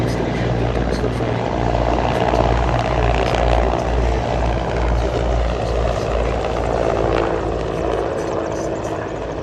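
A Mi-35 Hind, the export version of the Mi-24V, flies a display at the Duxford airshow, its rotor beating in a steady, loud, rhythmic chop alongside a constant turbine roar that holds for the whole stretch.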